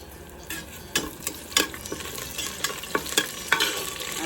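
Whole spices such as cinnamon sizzle in hot oil in a pan while a spoon scrapes and stirs them in quick, irregular strokes, close and clear with no talking.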